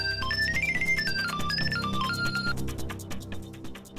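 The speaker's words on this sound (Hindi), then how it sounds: "स्टीफन यार, please switch off the phone यार" A mobile phone plays a melodic ringtone close and steady, a bright tune of quick notes that loops over a backing beat and continues without pause.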